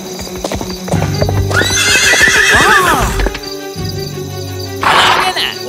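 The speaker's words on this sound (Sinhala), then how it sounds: "නගරය මැද්දේ ඔයාලට අශ්වයෝ පදින්න බැහැ" A cartoon horse gives a loud whinny in the middle, with clip-clopping hooves beside it and a second short neigh near the end, all up close over a busy cartoon scene.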